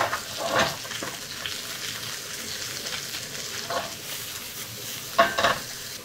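Onion and green onion stir-fry in a hot pan alongside pork neck, with a steady sizzle broken by occasional scraping stirs.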